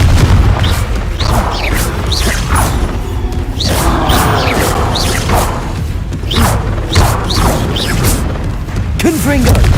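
Confringo blast spells explode over and over in Hogwarts Legacy combat, each a heavy boom with a whooshing tail. The impacts come in quick irregular succession, loud and close throughout.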